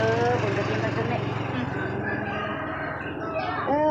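A rooster crows close by, a loud drawn-out call that fades at the end, heard under people talking at a noodle shop.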